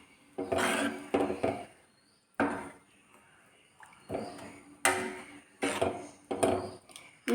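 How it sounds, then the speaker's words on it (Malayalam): A spoon stirs and mixes dal curry in a pot, giving repeated scraping and knocking strokes in irregular bursts with short pauses between them. The strokes are close and moderately loud. "നന്നായിട്ടൊന്ന് ഇളക്കി യോജിപ്പിക്കാം."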